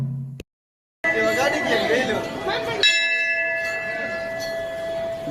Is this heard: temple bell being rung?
yes